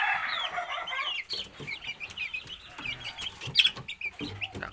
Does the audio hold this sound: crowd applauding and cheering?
no